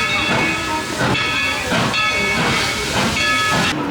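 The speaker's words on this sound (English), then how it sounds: "The train is impressive." A steam train passes at Dollywood during the Christmas season, chuffing in rhythmic hissing bursts of steam about once a second, loud and close.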